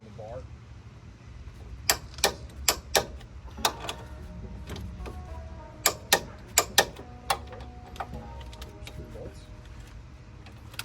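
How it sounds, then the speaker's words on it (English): A torque wrench tightening suspension bolts on a 2011-2016 Scion tC gives a series of sharp, close clicks in short bursts over quiet shop background. "now I'm gonna torque them to 66 foot-pounds"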